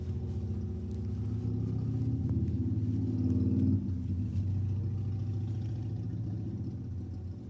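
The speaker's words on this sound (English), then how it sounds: "Ignore the motorcycle going around in the background." A motorcycle circles somewhere nearby, its low engine rumble droning steadily at a moderate distance and swelling slightly before easing off again.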